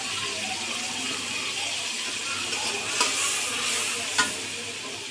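Spices and turmeric sizzle loudly in hot oil in a pan for a shrimp and taro dal. Two sharper scrapes of a stirring spoon cut through the continuous frying hiss.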